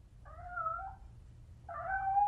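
A cartoon cat trapped inside a wall gives two drawn-out meows with a short pause between them, clear and mid-loud over a low background rumble.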